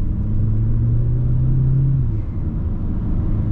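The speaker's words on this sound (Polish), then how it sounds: "Ole, tutaj blow-offik słychać." 2024 MG HS 1.5 T-GDI engine with DCT, heard from inside as a steady rumbling rev that rises, then eases off with a brief soft release as the revs drop, loud and without talk.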